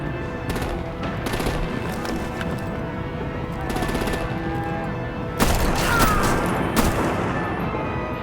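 Artillery and machine-gun fire striking vehicles in a Batman video game, dense continuous rattling bursts with heavier blasts, close and loud throughout.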